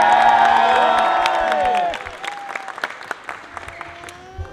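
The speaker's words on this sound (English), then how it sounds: "why don't we practice a cheer?" A crowd at a Commonwealth Games welcome event for Team India cheers loudly and applauds, with whoops and shouts at the start, then thins into scattered claps and calls.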